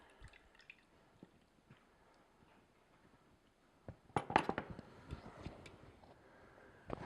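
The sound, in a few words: raspberry juice dripping from a fruit press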